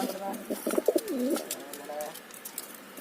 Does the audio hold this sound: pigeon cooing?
yes